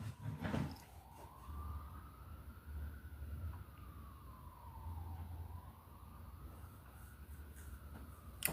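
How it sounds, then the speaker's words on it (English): Emergency vehicle siren wailing in the distance, its pitch rising and falling in slow sweeps over a faint background rumble, fairly quiet throughout with a brief louder knock at the start. "the fucking sirens got louder as I said that."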